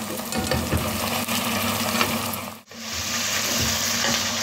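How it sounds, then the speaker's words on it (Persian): Meat frying with onions in a pan for Persian ghormeh sabzi stew, a loud, steady sizzle close up with a brief dip and stir partway through. "گوشت یه خورده تفت بخوره داخل پیاز همراه با گوشت سرخ بشه و طلایی بشه."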